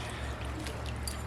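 Cooking liquid is poured into turkey gravy in a kitchen, making a short, soft, steady trickling pour close by, with a low hum in the background.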